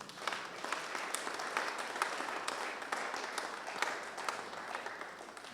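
A church congregation applauds, with continuous scattered clapping heard from a distance, steady and fairly faint, and no clear voices.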